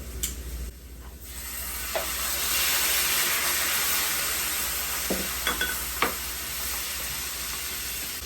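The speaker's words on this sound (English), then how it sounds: "We're going to cook our garlic until it becomes toasted and aromatic." Garlic sizzles and toasts in a pan as a steady, moderately quiet hiss of frying. A few soft clicks and stirring knocks sound over it.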